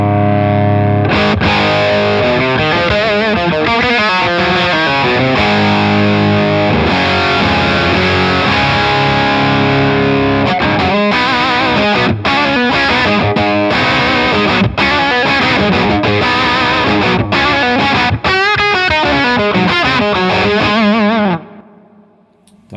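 Electric guitar driven through a Beetronics Octahive pedal with its gain pushed up, a loud, dense, fuzzy distorted tone played continuously for about twenty seconds before cutting off abruptly.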